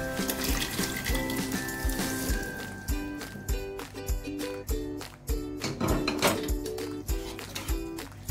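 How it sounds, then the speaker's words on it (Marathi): Boiled chickpeas and their cooking water are poured into a pan of chole masala, giving a moderate splashing, gurgling liquid sound with a few clatters, heard over background music. "छोले आणि त्याचं पाणी ॲड करूया."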